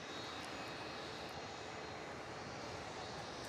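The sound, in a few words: Jetstar Airbus A320neo jet engine starting during pushback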